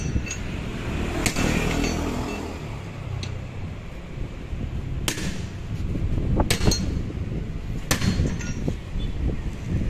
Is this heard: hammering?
yes